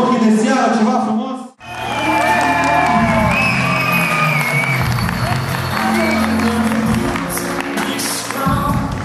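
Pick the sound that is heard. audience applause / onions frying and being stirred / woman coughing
audience applause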